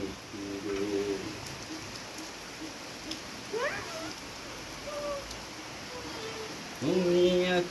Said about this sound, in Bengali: তুমি যে আমার জোরে বৃষ্টি আসছে গো